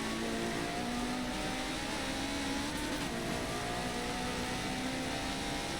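A Ferrari race car roars at full throttle down a straight during an SRL Le Mans Legends 12-hour sim racing endurance event, producing a steady, loud, dense engine drone with a high whining tone that holds throughout.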